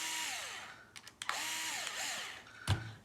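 A power screwdriver backs out the gearbox screws on an Element RC Enduro, whirring in short bursts at rising and falling pitch with small clicks between them and a clack as a part is set down.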